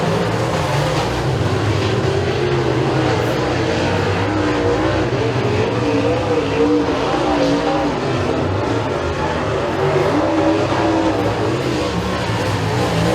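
Race cars roaring around the Eriez Speedway track during a heat race's final lap, a loud continuous engine drone with rising and falling revs as cars pass, with a faint announcer's voice beneath.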